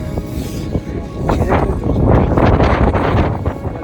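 Strong wind gusts buffet the microphone beside a high-altitude freshwater lake in Sikkim, a loud, steady roaring rush that swells and stays heavy throughout.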